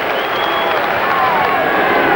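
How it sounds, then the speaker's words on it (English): A home stadium crowd at Mount Smart Stadium cheers for the Kiwis during a rugby test against the Australians. It is a loud, continuous, distant roar of many voices that stays unbroken throughout. "And hear that crowd for the Kiwis"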